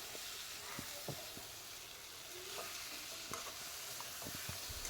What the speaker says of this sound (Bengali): এবার আলু আর মাছটা দিয়ে দিব।